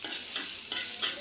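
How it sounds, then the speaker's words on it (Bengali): Onions frying lightly in a pan with chilies, a steady hiss of oil with faint stirring scrapes, close and continuous with no talking. "এখন আমি এর মধ্যে পেঁয়াজগুলো ভেজে দিচ্ছি"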